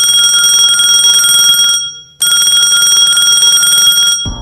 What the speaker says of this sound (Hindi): उसका मोबाइल बजा